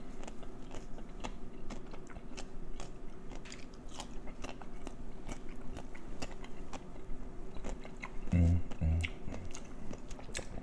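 Someone eats KFC fried chicken with pickles, giving close, crisp biting and crunching with wet chewing that runs steadily throughout, with a louder bite near the end and no talking.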